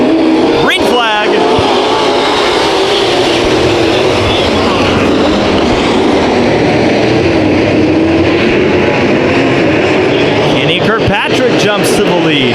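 Race cars roar continuously around the track at Santa Maria Raceway during a heat race at The Nationals, a dense, loud engine drone filling the whole stretch, with an announcer's voice calling the action over it.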